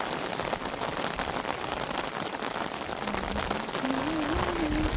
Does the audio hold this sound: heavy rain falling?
yes